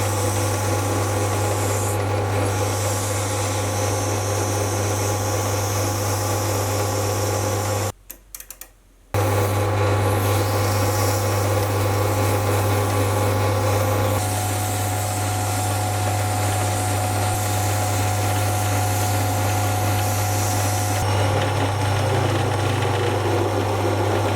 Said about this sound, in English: So I'll mark out and sand down the high spots until it's consistent, and then I'll give it a quick polish.